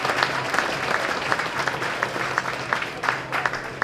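A school jazz concert audience applauds steadily, a dense sustained clatter of clapping hands filling the room with no break, moderately loud and close.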